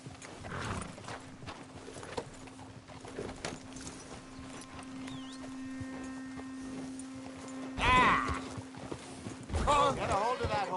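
Horse hooves clip-clop in a video game, a steady moderate-level patter running under game dialogue, with louder bursts near the end.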